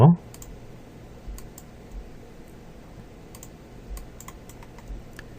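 Mouse clicks while placing particles with the particle tool in Autodesk Maya 2015: a series of soft, sharp, isolated clicks spaced irregularly over a quiet room hum, close and fairly faint.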